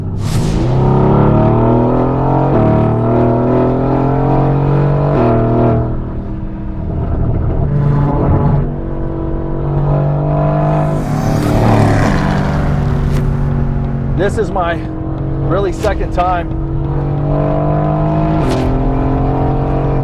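A Mercedes AMG GT on a country road outside St. Louis revs and accelerates, its engine note climbing through gears with rising and falling harmonics, while someone speaks briefly over the drone.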